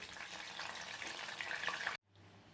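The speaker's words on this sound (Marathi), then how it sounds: "असे गोल्डन कलरवर हे तळून घ्यायचे." Fasting potato patties fry in hot oil with a steady, soft sizzle that crackles faintly for about two seconds, then cuts off suddenly, leaving low background noise.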